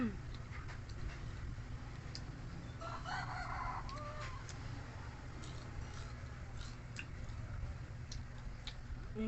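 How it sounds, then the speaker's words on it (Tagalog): Somewhere far off a rooster gives a single faint crow, nearly buried in a constant outdoor street hum and scattered ticking noises. "Yun ng manok."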